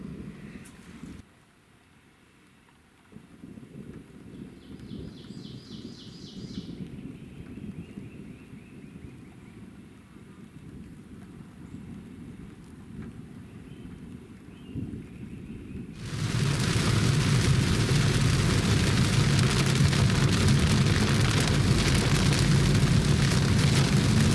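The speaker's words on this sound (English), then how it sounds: "it looks like the rain is finally dying off." Steady rainfall with gusting wind in the Maine woods in spring, growing much louder and heavier partway through into a dense downpour.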